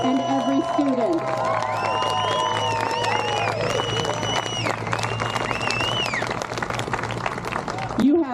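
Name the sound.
protest crowd applauding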